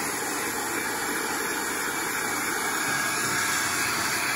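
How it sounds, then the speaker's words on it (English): Steady, fairly quiet rushing airflow from a hair dryer drying sprayed paint on a 5T model body runs continuously without pause, with no voices. "Can we get the hairdryer?"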